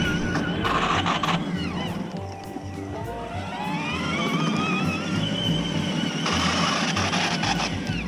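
A Traxxas RC Jeep running rough, its small motor whining and revving unevenly in loud bursts that rise and fall, close by.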